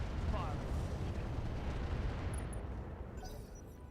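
Heavy mech weapons firing in the RogueTech game, a dense sustained roar of booming blasts and rumble that fills the low end, with faint higher crackles, gradually easing toward the end.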